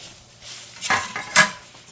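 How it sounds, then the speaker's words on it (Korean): A curtain-wall window insect screen frame clicks into place: two sharp plastic clicks about half a second apart, close and fairly quiet, with faint rustling handling noise between them. "그냥 딸깍 끼워 놓으시면 돼요. 딸깍 소리 날 때까지."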